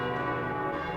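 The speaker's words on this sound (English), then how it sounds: "What's that bell?" A bell rings in the PS1 video game Koudelka, its sustained resonant tone humming richly and evenly throughout without any speech.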